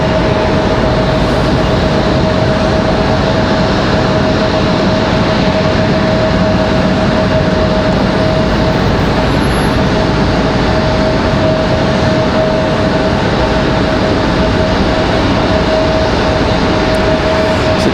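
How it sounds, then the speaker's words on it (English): A JetBlue airliner taxiing to line up for departure at Raleigh-Durham International Airport, a loud, constant jet engine roar with a steady whining tone running through it, unbroken and close, with no voices. "JetBlue getting ready to line up, get ready to get out of here."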